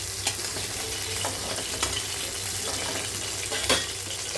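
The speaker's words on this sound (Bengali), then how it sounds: "আর এই কড়াইতে আমি কচুটাও ভেজে নেবো।" Taro pieces fry in hot oil in an Indian kadai, giving a steady, close sizzle with occasional sharp pops and crackles, no voices present.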